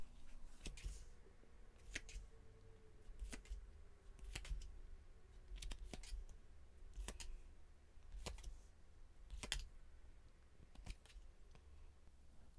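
Tarot cards being drawn and handled during a reading, giving a series of sharp, crisp snaps and slaps roughly every second over a soft steady background, close and fairly quiet, with no talking.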